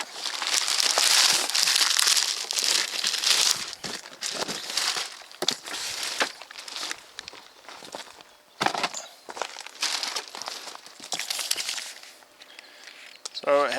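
Plastic wrapping around a Westinghouse WH2200iXLT inverter generator crinkles and rustles loudly as it is handled up close, in repeated bursts with a few brief pauses.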